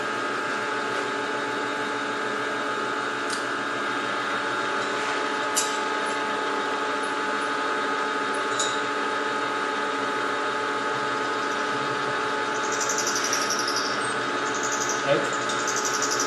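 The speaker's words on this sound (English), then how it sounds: "it's time to clean up a bandsaw edge" A power tool runs steadily while cleaning up a bandsaw-cut edge, its motor drone and whine holding at an even level with a few faint clicks and knocks throughout.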